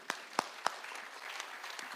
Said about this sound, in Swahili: Haya, pigeni RC makofi.